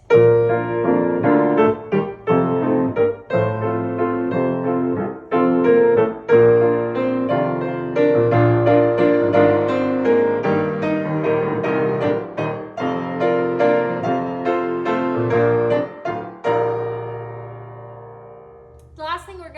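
Piano playing a gentle accompaniment to the hymn "Saved, Saved" in a lilting triple rhythm, low bass notes followed by chords, fading out at the end.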